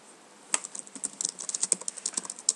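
Rapid typing on a computer keyboard during Minecraft Skyblock play, a quick irregular burst of close crisp key clicks starting after a short pause, with no talking.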